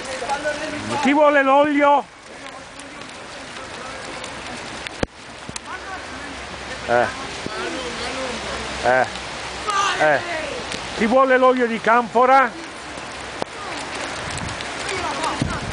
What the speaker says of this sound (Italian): Sotto la pioggia battente, anche zio Carlo prende l'acqua.